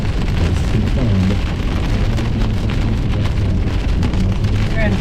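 Small hail and heavy rain pelt surfaces during a severe thunderstorm in Iowa County, Wisconsin, a dense, loud, steady patter with low rumbling underneath.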